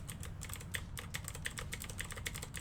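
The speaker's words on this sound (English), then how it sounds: "a gaming keyboard, so it's just loud" Rapid, steady clacking of keys on a loud gaming keyboard, close and continuous with no talk over it.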